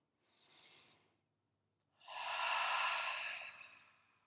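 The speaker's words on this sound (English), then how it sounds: "Take a deep inhale through your nose and exhale through your mouth." During a hatha yoga session, one person takes a short, soft inhale through the nose, pauses, then lets out a longer, louder breathy exhale through the mouth, close and alone.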